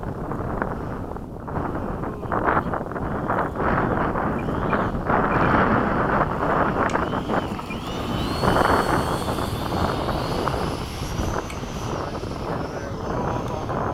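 A small propeller airplane makes a touch-and-go at an airfield, engine and wind roaring continuously through the cockpit as power builds for the takeoff, with occasional talk over it.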